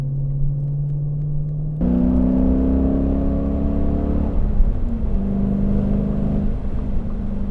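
Dodge Challenger muscle car with an American V8 engine, a heavy 1.8-tonne coupe, rumbling steadily while driving, the low engine tone stepping up as it revs and then settling into a smooth, loud, close purr with no talk over it.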